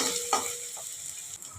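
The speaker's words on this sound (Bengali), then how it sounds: "পেঁয়াজটাকে একটু ভাজতে হবে ভালো করে।" Onion with chopped ginger frying in a pan, a steady soft sizzle with a couple of brief stirring scrapes, close and alone.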